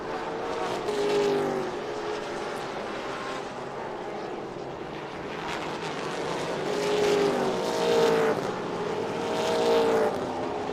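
Porsche Cayman GT4 race cars cornering at Chang International Circuit, engines droning and rising in pitch as they sweep through, with louder passes near the end over steady track ambience.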